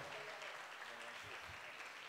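An audience at a sports gala evening applauds a Moscow Circus guest performer, a dense continuous wash of clapping heard faintly from a distance, with no talk over it.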